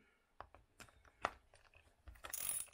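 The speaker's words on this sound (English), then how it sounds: "there's a 17 millimeter ratchet" A 17 mm ratchet turning on a hub extension of an Arrma Big Rock Crew Cab RC truck gives a few quiet, close mechanical clicks and ratchet bursts, with a brighter rasping run near the end.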